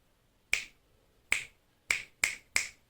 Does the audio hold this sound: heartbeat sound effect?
no